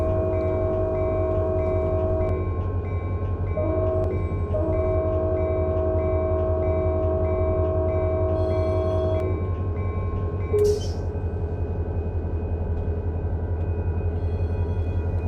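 A BNSF freight train in the Run 8 train simulator video game rumbles steadily with a loud, continuous low drone and sustained tonal hums, a brief bright squeal near the end, no talking.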